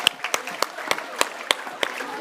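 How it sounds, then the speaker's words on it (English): Scattered hand claps from a small group at an awards dinner, irregular and fairly close, with a light crowd murmur underneath; brief and thin rather than a full ovation. "All right, big round of applause."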